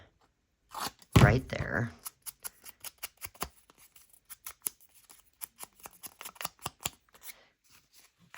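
Scissors snip piano roll paper in a quick run of crisp cuts that continue for several seconds, with a person speaking briefly near the start.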